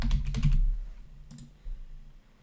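Brief bursts of typing on a computer keyboard: a quick run of clicky keystrokes at the start, then a few isolated taps, close and fairly quiet.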